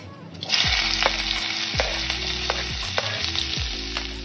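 Whole fennel seeds sizzle and crackle as they temper in hot oil for a Bombay duck curry, a loud continuous fry with scattered pops and a few sharp stirring clanks throughout.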